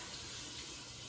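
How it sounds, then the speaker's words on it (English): Tap water runs steadily into a pot while chicken taco soup is cooked at home, a continuous close hiss without talk. "I'll add some water"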